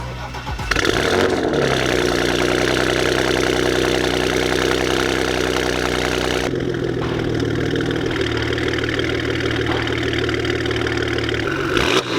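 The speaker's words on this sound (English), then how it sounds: "we're rolling in the Macan with the new turbos on" A Porsche Macan Turbo fitted with upgraded turbos and new downpipes starts up and settles into a steady, loud idle close by, with a shift in engine tone partway through and no talking.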